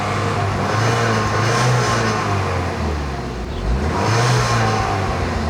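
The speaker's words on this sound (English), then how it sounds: "So I'm gonna go ahead and rev it for a little bit." A Saab 9-3 with misfire trouble and rough idling is revved hard twice, the engine climbing in a loud, close roar, dipping briefly between the two runs, then rising again.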